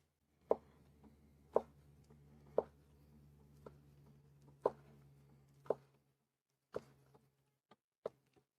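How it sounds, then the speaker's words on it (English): Sharp knife slicing through chicken for fajitas on a cutting board, a series of crisp, close cutting taps and thuds at an irregular rhythm over a low steady hum, with no talking. "It is a good sharp knife. It's really nice. It really just cuts it real easy."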